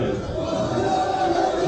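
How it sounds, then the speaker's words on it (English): A crowd of party supporters gathers outdoors, a dense, steady murmur of many voices with a faint chanting edge, heard close and continuous without any clear single speaker. "we have crowds gathering in front of the race"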